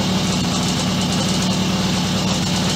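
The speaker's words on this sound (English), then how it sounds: "We'll let it run here for a little while, warm up, see how it does." A Suzuki K11 two-stroke engine runs steadily as it warms up, a continuous rough, buzzing idle with a strong low drone and constant level, close by with no talk.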